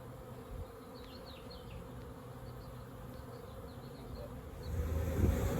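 A dense, steady hum of a swarm of honeybees buzzing together inside a box, continuous throughout and swelling louder near the end.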